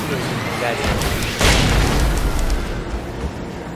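Fireworks burst in the Alan Wake video game, a loud boom at about the midpoint followed by crackling rumble, over dense game noise.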